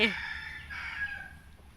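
A young bantam rooster, only just maturing and not yet at full voice, gives one short, close crow that trails off, with someone speaking over it.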